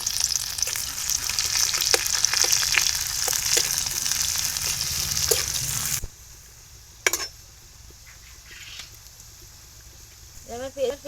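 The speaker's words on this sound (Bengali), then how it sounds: "সেই তেলে আমি এবারে তরকারিটা রান্না করে নেবো এবারে পেঁয়াজ দিয়ে দেবো" Onions sizzle in hot oil left over from frying fritters, the start of a cauliflower stem curry in a home kitchen, a loud steady frying hiss with scattered clicks that drops to quiet after about six seconds, then a few brief noises.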